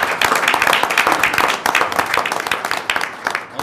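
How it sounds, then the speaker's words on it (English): Audience applause at a community college board of trustees meeting, dense steady clapping from many hands filling the room, loud and continuous throughout with no talking over it. "I'd ask us all to give a round of applause"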